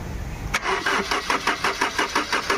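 A Tata Manza diesel car being started after a wiring fix for a crank-but-no-start fault: a sharp click, then a close, steady run of rhythmic cranking pulses, loud and alone.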